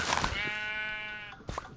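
One drawn-out Minecraft sheep bleat, close and clear, holds steadily for about a second before a brief muffled knock or shuffle follows.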